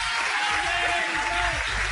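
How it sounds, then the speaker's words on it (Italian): A studio audience of women applauds on an Italian radio show, steady clapping filling the whole moment at an even level with a voice faintly underneath. "Le donne applaudono."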